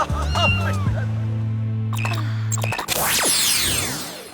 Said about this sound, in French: On a trouvé un petit chaton qui a pas de maître et on va pas le relâcher dans la nature, Jerry.